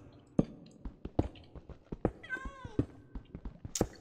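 Cat meows in Minecraft, a clear drawn-out call near the middle and another near the end, mixed with sharp clicks and taps from gameplay.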